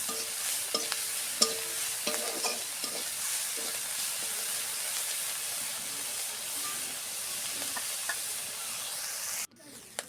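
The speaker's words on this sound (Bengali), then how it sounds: "এখন আমি একটু হালকা করে ভালো করে একটু ভেজে নেব" Shrimp seasoned with turmeric and salt sizzling as they fry in a pan, a continuous close crackling hiss with stirring clatter, ending in a sudden cut.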